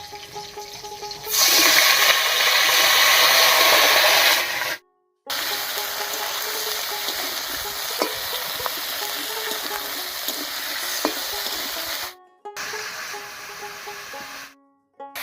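Potatoes and eggplant frying in oil in a pan over raw green chillies, with salt and turmeric to follow: a loud hissing sizzle bursts up as they go in, then settles into steady, close frying with two brief silent breaks.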